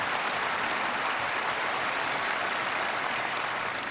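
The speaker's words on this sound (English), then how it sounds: "In the balcony, Trixie applauds and Bill Kreutzmann yells" Audience members applaud from the balcony at the 47th Kennedy Center Honors gala in Washington, producing a dense, steady wash of clapping that holds evenly throughout.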